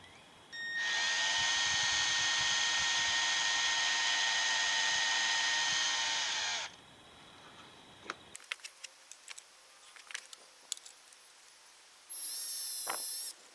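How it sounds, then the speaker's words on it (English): A power drill bores a hole through a wooden drill guide of two glued pieces into a guitar headstock, a loud steady whine for about six seconds, then small clicks and taps before a second short burst. "I'm using a couple of pieces of wood glued together as a drill guide to keep the holes roughly vertical."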